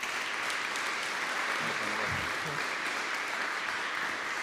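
Audience applause at an aviation academy graduation ceremony, a dense, even wash of many hands clapping in a hall, steady throughout with a brief voice murmur partway.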